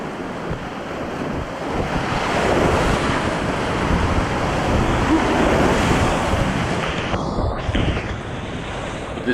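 Fast, continual whitewater rushes through a kayaking center's channel with swirling eddies, a steady broad roar of churning water with wind buffeting the microphone, loud and close throughout with no talk.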